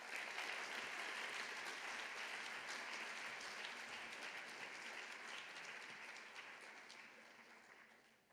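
Applause from a university lecture-hall audience welcoming a theology lecturer, a dense steady clatter of many clapping hands that holds strongly throughout and tapers slightly near the end.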